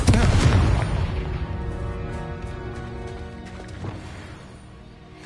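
A loud, deep booming blast from an explosion spell in the wizarding video game Hogwarts Legacy, starting strong and then fading into a long, ringing, tonal decay with a faint later pop.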